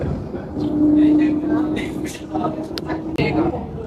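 A Pune metro train hums and rumbles nearby with a steady tonal whine on a rainy day, while people talk over it and brief clanks cut through.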